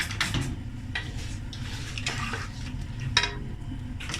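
Chicken frying in oil in a pan over a high flame for jalfrezi, a steady close sizzle with occasional scrapes and clinks of a utensil against the pan.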